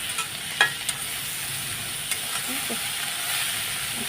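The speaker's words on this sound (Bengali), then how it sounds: "এবার আমি নাড়াচাড়া দিয়ে দেবো" Taro stolons and shrimp sizzling in a frying pan while being stirred, a steady hiss of frying with a few scraping clinks from the spoon near the start.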